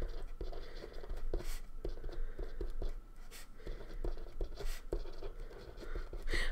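Handwriting with a pen on paper, continuous close scratching strokes with small pauses between words, steady and fairly quiet with faint room noise.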